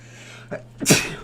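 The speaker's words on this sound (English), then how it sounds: "I'm going to sneeze." A single sneeze: a short inhaled catch followed by a loud, sharp burst, close and alone.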